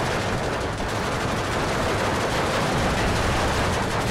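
Dense, continuous battlefield gunfire from the Steel Division 2 video game as tanks such as a Stuart and a T-36 trade shots, a loud unbroken crackle and rumble of shots with no voices over it.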